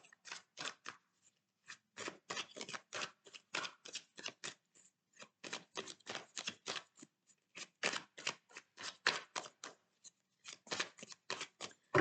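Oracle cards being shuffled for a reading, with rapid bursts of riffling and sliding cards close by, repeating in short runs separated by brief pauses.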